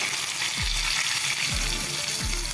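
Curry leaves and green chillies sizzle loudly in hot tempering oil for rava dhokla, a steady bright crackle with a few deeper swooping pops, and no voices.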